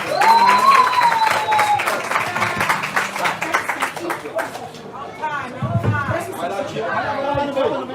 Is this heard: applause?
yes